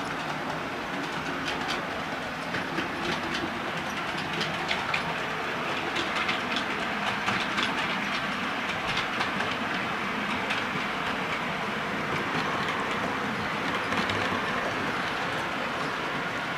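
Model railway trains run around a layout with town and urban scenes, giving a continuous wash of rolling wheel noise and repeated light clicks over rail joints.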